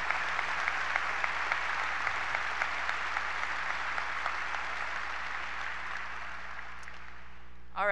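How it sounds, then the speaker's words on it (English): Sustained applause from a large crowd at a high school graduation ceremony, a dense even patter of clapping that gradually thins toward the end. "please join me in a round of applause for Neil Berry and his three decades of serv"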